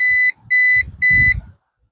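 An Arrma Mojave Grom BLX RC car's electronics give three loud, evenly spaced electronic beeps for a gyro setting, each lasting about a quarter second, with faint handling noise underneath.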